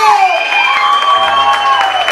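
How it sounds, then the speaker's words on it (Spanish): A crowd at a birthday party with a youth mariachi band cheers and claps loudly, with high shouting voices rising over a steady wash of applause. "¡El aplauso!"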